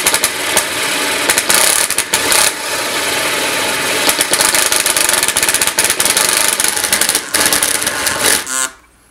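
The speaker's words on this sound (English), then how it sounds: "I'm using a different drill here. This is an impact drill." Impact drill clicking and rattling while driving into wood during an arcade cabinet build, a loud, harsh, continuous burst of rapid hammering clicks with a brief pause, stopping abruptly near the end.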